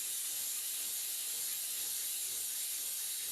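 A steam cleaner mop fitted with a hard brush nozzle hisses a steady, close, unbroken jet of steam onto an old shower stall to loosen plaque, alone without talk.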